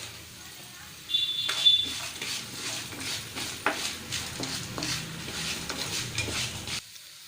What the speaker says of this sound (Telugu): 1/2 టేబుల్ స్పూన్ ధనియాలు వేసుకోవాలి. వీటిని కూడా వేయించుకోవాలి.